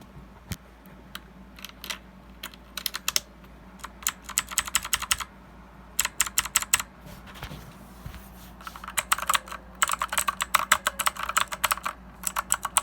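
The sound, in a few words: typing on a Redragon mechanical keyboard with blue switches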